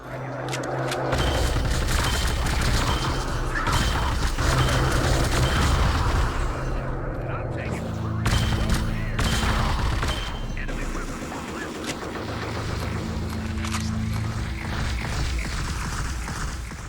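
Weapons fire in a battle from the game Brute Force: loud, continuous bursts of gunshots and heavy booms crackle close by for the whole stretch, with mechanical clanks and voices mixed in.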